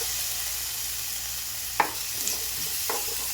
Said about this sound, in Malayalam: ഇഞ്ചി ഇട്ട് കൊടുക്കാം ഇതൊന്ന് നന്നായിട്ടൊന്ന് മിക്സ് ചെയ്യാം തക്കാളി ഇട്ട് കൊടുക്കുന്നുണ്ട്